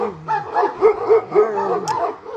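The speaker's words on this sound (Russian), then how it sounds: "молодой, здоровый пес" A young, healthy dog lets out a run of short yipping barks and whimpering whines, close and fairly loud, several vocalizations in quick succession with no talking.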